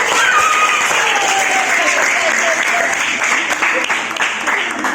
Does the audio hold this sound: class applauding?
yes